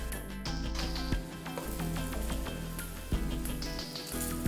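Potatoes fry in a hot pan for cottage potatoes, giving a continuous close sizzle dotted with sharp crackles and pops, with no voices over it.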